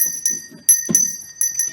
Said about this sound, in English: I think we need to ring the bell